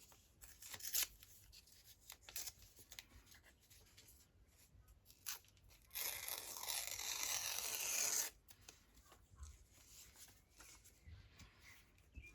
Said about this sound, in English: just put a crease about where you want to tear it